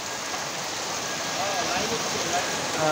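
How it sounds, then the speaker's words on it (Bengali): Dense, steady hiss of heavy rain pouring down in Baliakandi, Rajbari, uniform and close, growing slightly louder toward the end. "আমাদের রাজবাড়ির বালিয়াকান্দিতেও এখন প্রচুর বৃষ্টি, যেটি আপনারা দেখতে পাচ্ছেন"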